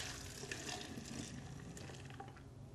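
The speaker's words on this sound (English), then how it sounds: "you want to make sure that all of that milk goes right into your jar" Homemade almond milk poured through a funnel into a glass mason jar gives a steady close splashing trickle of liquid that fades slightly toward the end.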